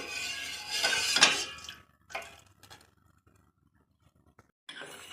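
Soaked sago tipped with its water into a pot of boiling water, a brief splashing pour followed by a few drips and a light clatter, then near silence.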